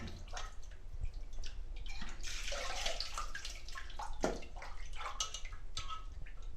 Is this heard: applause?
no